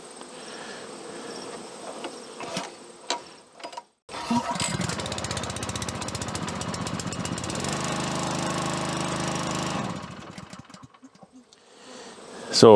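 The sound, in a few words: small engine pull-started and running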